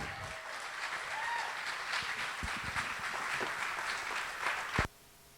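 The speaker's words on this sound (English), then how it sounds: "let's all give her a big round of applause" An audience applauds to welcome a speaker onstage at a talk, a dense, sustained round of clapping that fills the room for several seconds before stopping abruptly.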